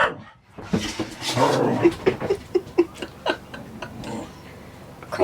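A dog aboard a boat in the Canary Islands gives short, rhythmic whimpers and whines between rapid panting breaths, close and fairly loud, with a person's voice speaking over it.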